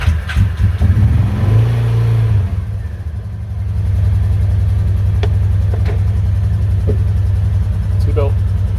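A Kawasaki Teryx side-by-side with upgraded shocks and springs out on a test drive, its mid-pitched engine droning steadily and close, easing off briefly before settling back into a constant hum.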